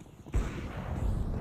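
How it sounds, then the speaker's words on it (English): A flashbang grenade goes off in Counter-Strike 2 during a Premier match on Inferno: a sudden loud broadband burst, then a sustained harsh wash of noise with low rumbling to the end. "I throw the flashbang. Flashbang!"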